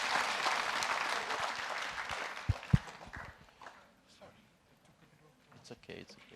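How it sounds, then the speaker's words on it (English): Applause from an entrepreneurial fair audience fills the opening seconds, then thins to a few scattered claps and a couple of sharp knocks before quiet murmuring and faint voices remain. "A round of applause to Watiso Ninata and his team."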